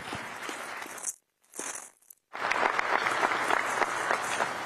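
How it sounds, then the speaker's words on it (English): Crowd applause at a press conference, with a brief gap partway through, then a fuller burst of dense clapping that carries on steadily to the end. "Please give them a round of applause."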